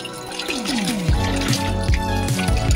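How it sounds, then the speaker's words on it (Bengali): A bata fish being washed by hand in water for a Bengali fish curry, giving close, loud sloshing and splashing with a running trickle and drips, without speech. "দেখো, আমি বাটা মাছটা ভালো করে ধুয়ে নিচ্ছি।"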